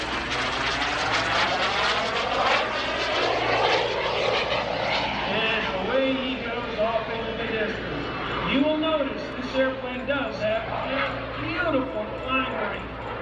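A mini jet flying aerobatics at a lakeside airshow, its engine drone sweeping and shifting in pitch as it passes and climbs, with an announcer talking over it throughout.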